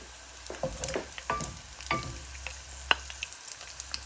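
Onions hit hot cooking oil in a pan, faint crackling sizzle broken by scattered sharp pops and spatters, close and quiet with no talking.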